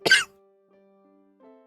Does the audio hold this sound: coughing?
yes